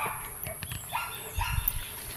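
A dog barks a few times at a distance, short yelping bursts over outdoor background noise.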